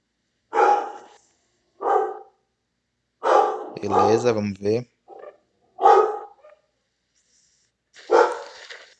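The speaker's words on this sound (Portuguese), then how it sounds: "Isso, cachorro. Late bem na hora que eu tô gravando." A real dog in the room barks in sharp, separate bursts, about five of them spread over several seconds and fairly close, while someone briefly speaks between barks.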